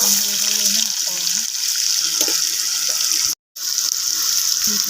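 Onion and cumin fry in oil in a pan for an okra masala curry, giving a loud, steady hiss of sizzling with small clinks. The sound cuts out for a brief moment partway through.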